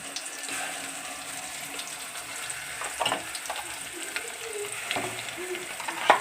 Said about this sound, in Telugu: ఆయిల్ వేడి కాగానే మళ్ళీ మనం ఈ పేస్ట్ ఉంది కదా, దీన్ని మనం దీంట్లో యాడ్ చేసుకోవాలి.